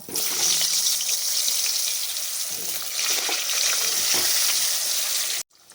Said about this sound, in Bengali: সামান্য একটু নুন, সামান্য একটু হলুদ গুঁড়ো, 3টে বড় সাইজের আলুর টুকরোগুলোকে ভেজে নেব